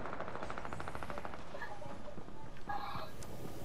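Rapid bursts of automatic gunfire in the video game Fortnite, a dense rattling stream of shots that fades and returns, with brief voices talking over the action.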